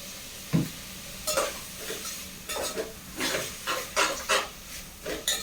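Ingredients sautéing in a pan for kuzhambu, a South Indian curry: a soft, steady sizzle with repeated scraping and stirring strokes of a spoon against the pan, close and moderately loud, with no talking.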